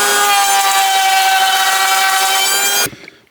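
A power router or planer-style cutter runs loud and steady as a rough-sawn wooden plank is fed through to cut a rebate for beehive crown boards, then stops abruptly near the end.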